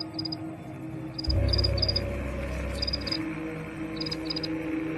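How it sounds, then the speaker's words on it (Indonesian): Crickets chirp from inside a small box in the TV series Wayward Pines, giving short, faint, high chirps in repeated pairs and bursts over a soft low hum, with no talk. "suara jangkrik itu berasal dari sebuah kotak kecil"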